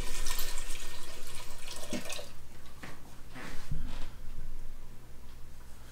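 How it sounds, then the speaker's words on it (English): Liquid from a can of gandules poured into an Instant Pot for arroz con gandules, a steady close splashing pour that tapers off, then a few brief sloshes and a clink. "Now at this point, we're gonna go ahead and add our liquid."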